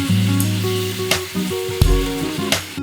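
Streaky bacon frying in a pan, a steady close sizzle with a few sharper crackles and spatters, alongside faint tonal background music and no speech.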